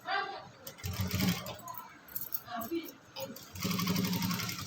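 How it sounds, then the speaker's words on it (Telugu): A sewing machine runs in two short bursts while stitching a frock, a fast, even mechanical whirr close by, with quieter handling noises and low talk in between. "పైనుంచి ఇలా కుట్టు అనేది వేసుకోవాలి."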